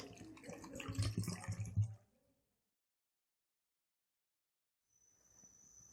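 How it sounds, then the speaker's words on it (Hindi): Water pours into a cooking pot of chicken and spices for shami kabab, a splashing rush of about two seconds, close and fairly loud, followed by silence. "अब हम इसमें 1 लीटर पानी ऐड कर देंगे"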